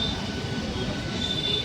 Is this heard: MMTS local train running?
yes